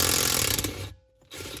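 A ratchet works a tight T50 Torx bolt on a Tesla Model S rear seat, giving a close, rapid clicking burst that stops briefly and then resumes.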